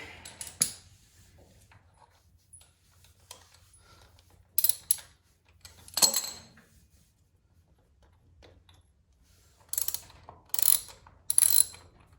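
A hand ratchet clicks in several quick bursts, spaced apart by quiet pauses, while a shifter peg is removed from a Harley-Davidson Sportster in a garage; close and sharp, with no talking.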